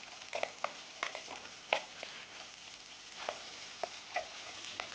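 Dried red chillies, curry leaves and onion sautéing in a pan give a soft, scattered sizzle and crackle with occasional sharper pops and stirring scrapes, faint and close.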